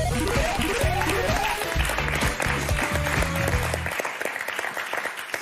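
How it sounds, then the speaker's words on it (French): Studio audience applause on the French game show Motus, a dense burst of clapping that runs steadily over musical jingle tones before trailing off near the end. "Qu'est-ce que vous voulez faire à part applaudir et dire bravo Françoise, bravo Nicolas"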